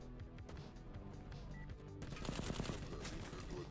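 Video game gunfire in dense bursts, quieter at first and then louder and busier halfway through, with a steady mechanical din underneath.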